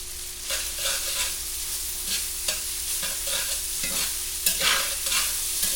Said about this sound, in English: I like to just start putting my rice in there like this and start mixing it around.